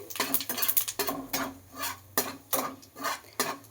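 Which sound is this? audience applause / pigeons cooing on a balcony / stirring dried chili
stirring dried chili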